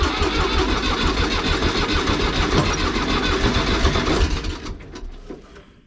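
A tractor engine cranks and catches near a shepherd's hut, running loud and rough for several seconds before the sound drops and fades toward the end.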